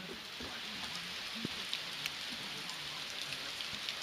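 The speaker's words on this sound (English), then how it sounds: "There's a hailstorm going on right now." Light hail patters outdoors on a sunny day during a hailstorm, a soft steady hiss broken by scattered small ticks and taps of hailstones landing nearby.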